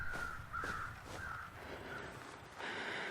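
Crows caw overhead in the wintry wilderness of The Long Dark, a series of five or six harsh, evenly spaced calls ringing out clearly against a steady wind-like hiss.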